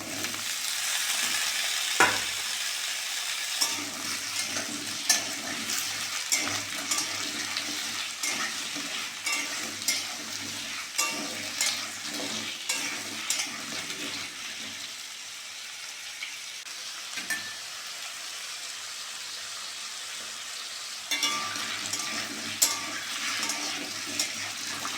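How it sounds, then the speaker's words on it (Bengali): Potatoes and onions frying together in a pan throw off a steady, close sizzle for the whole stretch, with scattered scrapes and knocks from stirring and no talking. "পেঁয়াজের সঙ্গে আলুটাও ভালো করে ভেজে নিয়েছি"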